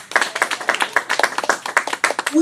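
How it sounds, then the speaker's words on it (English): Church congregation clapping together at a Sunday service, a dense run of sharp, close handclaps keeping up a loose rhythm with no pause. "I want us to give a clap offering to Jesus"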